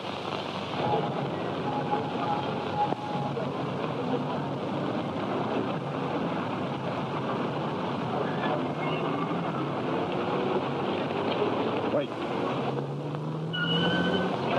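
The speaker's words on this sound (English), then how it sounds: "Young Hood's car." A car engine in an old radio drama serial hums as a steady, low, faint drone that runs unbroken throughout.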